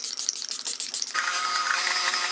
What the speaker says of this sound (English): today I'm using this setting spray from LA Girl